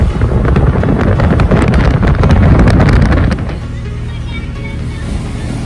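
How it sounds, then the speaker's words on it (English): Waves washing onto a beach in Martinique, a loud, steady roar of surf mixed with wind buffeting the microphone, easing to a softer continuous wash partway through. "Beach in Martinique."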